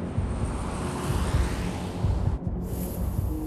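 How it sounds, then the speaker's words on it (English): In the H1Z1 King of the Kill game, a fixed-wing aircraft drones overhead in a continuous, moderately loud roar, steady with a brief dip, and no talking over it. "Fuck you, planes."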